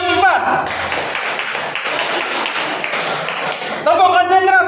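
A group of people claps a concentration pattern together, a dense, loud burst of many hands lasting a few seconds, with voices speaking just before and after it.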